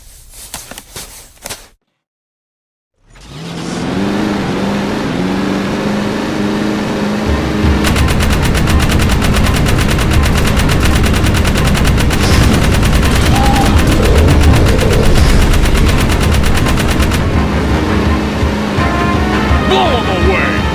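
A vehicle-mounted gun in the Jak 3 video game keeps up long, steady rapid fire over a rumbling engine and driving noise. The firing starts after a brief silence and holds loud, close and continuous.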